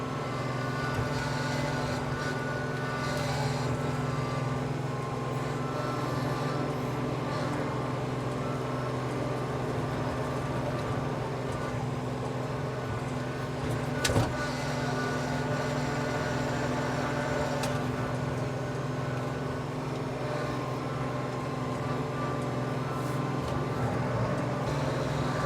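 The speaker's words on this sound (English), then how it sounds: "The hydrostat's a little bit noisy." A subcompact tractor with a hydrostatic transmission runs steadily with a constant droning engine hum and transmission whine throughout, no one speaking.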